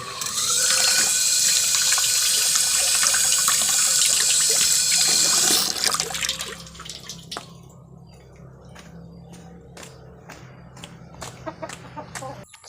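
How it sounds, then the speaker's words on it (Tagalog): Hands washed under a running tap after handling chili peppers, a steady loud rush of water for about six seconds that then stops, followed by scattered clicks and chickens clucking nearby. "Maghugas tayo ng kamay"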